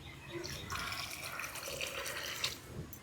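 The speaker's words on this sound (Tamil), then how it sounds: "தண்ணியை ஊற்றுமா." Water is poured onto crushed jaggery in a cooking vessel for payasam, a short close splashing and trickling pour that swells and then tapers off.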